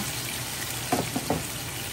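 Kadyos, pork and jackfruit sautéing in a pan, a steady broadband sizzle with a couple of brief stirring clinks near the middle, no talking.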